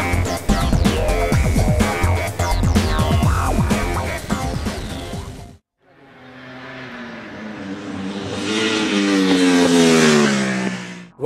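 A Ducati 1199 Panigale superbike races on the Mugello track, its engine screaming close and loud through rapid gear changes, then a brief gap before another pass climbs in pitch and fades.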